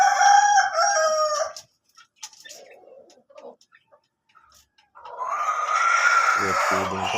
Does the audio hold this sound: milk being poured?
no